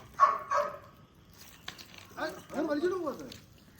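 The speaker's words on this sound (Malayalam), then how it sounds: "ആ പട്ടി തന്നെ ഇവിടെ കരയുന്നു." A dog at a home garden in Kerala whines and yelps in short, close cries, with a few broken yelps first and then a longer wavering whimper.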